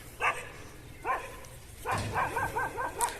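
Dogs bark outdoors in sharp, separate yelps, first two spaced barks and then a faster run of several barks, moderately close with no talking.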